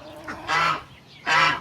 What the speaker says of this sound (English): And then these are my chickens and ducks and stuff.